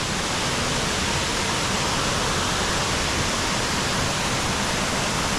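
A waterfall pours over the basalt cave at Springbrook's Natural Bridge in an Australian rainforest, a loud, dense, unbroken roar of falling water with no other sounds.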